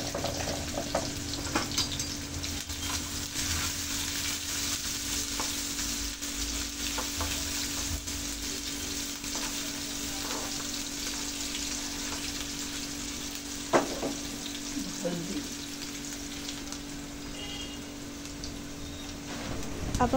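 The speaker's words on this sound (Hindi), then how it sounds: "पहले कढ़ाई में तेल ले लेंगे, दो बड़े चम्मच। इसमें डालेंगे प्याज अदरक और लहसुन" Onion, ginger, garlic and cumin fry in oil in a kadai, a steady close sizzle and crackle that holds throughout with occasional stirring clinks.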